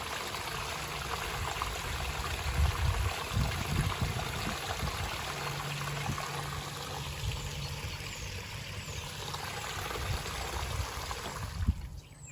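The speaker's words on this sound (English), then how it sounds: "This is where our sump pump pumps up." A basement sump pump discharges water from its basin in a steady, loud rushing stream that runs without a break, then drops off abruptly at the end.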